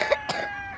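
A person gives two quick, close coughs in a row, the second slightly softer, with no talking.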